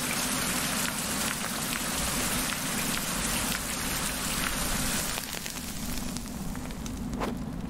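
Steady rain pours in a survival video game, a dense even hiss of drops on surfaces that runs throughout and eases slightly near the end, with no voices.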